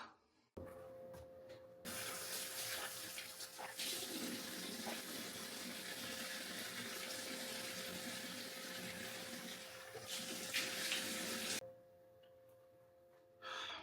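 Tap water runs steadily into a bathroom sink while a face is rinsed, a continuous close rushing hiss of about ten seconds that starts and stops abruptly, with a faint constant hum beneath.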